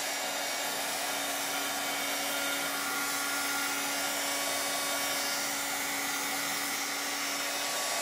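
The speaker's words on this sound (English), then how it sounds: "So I'll just dry that real fast." A handheld dryer blowing steadily to dry a freshly painted stripe, a continuous even whooshing hiss with a faint motor whine underneath, moderately quiet and unbroken for the whole stretch, with no voices.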